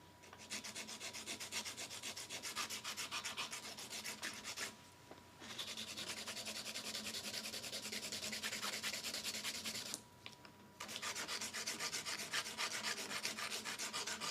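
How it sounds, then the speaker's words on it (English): A KUPA Divinity nail file shapes nails with rapid, rhythmic rasping strokes, close and continuous, broken by two brief pauses before the filing resumes. "So I usually do shaping first using a KUPA Divinity file."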